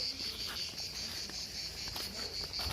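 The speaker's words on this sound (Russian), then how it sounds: "О, это цикады." Dense chorus of cicadas in a seaside village, a constant bright shrill buzzing that fills the air evenly and loudly from start to finish, with faint pulsing variations and no voices.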